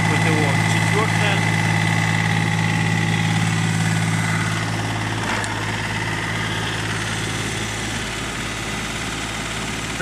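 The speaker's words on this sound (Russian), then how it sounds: "фреза работает мягко, без посторонних шумов, звуков, колебаний." A Hinomoto BS1400 Japanese rotary tiller runs steadily at 2000 rpm with the PTO at speed 4, giving a loud, continuous engine drone with a strong low hum and faint clatter throughout.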